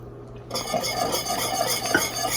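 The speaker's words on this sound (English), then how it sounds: "I'm gonna whisk that in" Salt, black pepper and nutmeg whisked into a thick bubbling sauce, rapid rhythmic metal whisk strokes against a pot starting after a short pause, close and steady.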